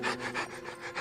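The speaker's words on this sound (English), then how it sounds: "I hope that was just panting." A dog character in a movie pants heavily, a quick, rhythmic series of about five breathy huffs, close and fairly loud, with no talking.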